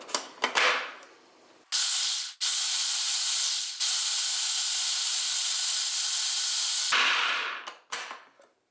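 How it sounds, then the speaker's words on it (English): A countertop blender whirs through hummus with tahini, a loud steady motor roar that cuts in and out in several bursts before stopping. "Blend this until it's fairly smooth."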